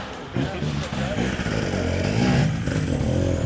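An off-road motorcycle climbs a hill at a dirt-bike clinic, its engine revving steadily and loudly close by with some clatter, while people talk over it.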